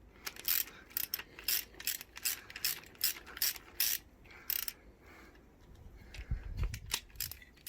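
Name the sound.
ratchet loosening engine head bolts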